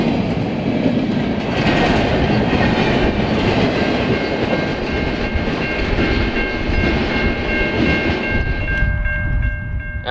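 A Canadian National freight train of all empty well cars, led by CIT-leased locomotives, rolls past on double track with a loud, steady rumble and rail clatter. Sustained tonal squeals ride over it before the sound eases near the end.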